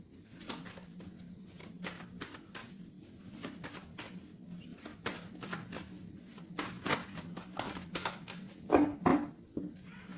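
A tarot deck is cut and shuffled by hand, giving soft repeated riffles and card slaps in an irregular rhythm, close and quiet, with a few louder flutters near the end.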